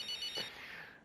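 A telephone rings in the F1 25 racing game, a short electronic trill with a bright, steady tone that fades after about half a second.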